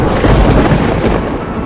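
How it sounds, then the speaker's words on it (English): Thunder from a lightning strike right beside paddlers on a remote northern lake in the Kipawa region: a loud, close, continuous broadband roar and rumble lasting the whole moment. "Lightning struck literally right beside us."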